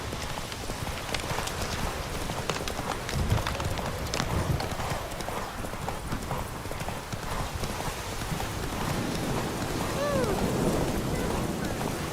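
Geralt's horse Roach gallops in The Witcher 3: Wild Hunt, a rapid, steady run of hoof clip-clops under wind, with a brief whinny near the end and a voice briefly heard.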